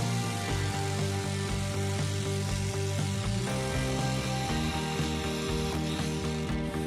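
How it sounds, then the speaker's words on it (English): A reciprocating saw running hard through nails behind a fascia board, with a droning, rattling mechanical buzz, steady and loud, its tone shifting slightly partway through as it cuts. "I'll just run a Sawzall through here real quick and cut any remaining nails."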